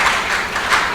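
A church congregation applauds together, a steady wash of clapping with a slight swell near the end, close and fairly loud, with no voices over it.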